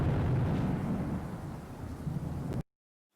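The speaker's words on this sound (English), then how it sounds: "here we hear the rain a bit quieter with thunderclap 1, thunderclap 2, and finally thunderclap 3" Loud rumbling thunder rolls continuously over steady rain, a deep broad roar that holds for a couple of seconds and then cuts off abruptly.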